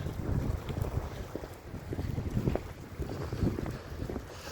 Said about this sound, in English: We have this wind going on, in southern Slovenia